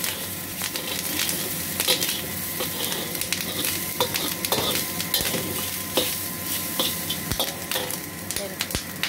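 Pig ears frying in a pan give a steady broadband sizzle with scattered pops and occasional stirring clatter, close and continuous without speech.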